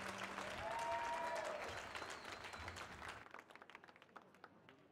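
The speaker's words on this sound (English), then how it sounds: "Thank you so much for the standing ovation" Applause from a concert audience at the Millennium Stage, loud sustained clapping that thins into scattered claps and fades out.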